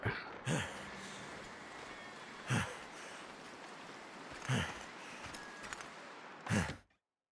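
A character's breathing in the survival game The Long Dark, four heavy panting breaths at roughly two-second intervals over a soft steady background, ending abruptly.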